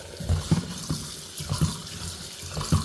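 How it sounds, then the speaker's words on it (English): Tap water runs into a bowl as rice for African pilau is washed by hand, with a steady flow broken by rhythmic sloshing and swirling splashes roughly every second, close and fairly loud. "Wash your rice, make sure it's clean"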